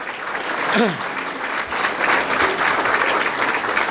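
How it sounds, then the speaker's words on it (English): A crowd at a political event for an alderman applauds, a continuous round of clapping with a whoop or whistle early on and faint voices mixed in. "Colleen, let's give her a round of applause."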